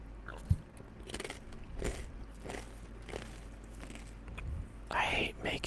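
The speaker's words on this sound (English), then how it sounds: "I hate making sounds of chewing." Close-miked chewing and crunching of food, soft irregular bites and mouth sounds near the microphone, with a breathy burst near the end.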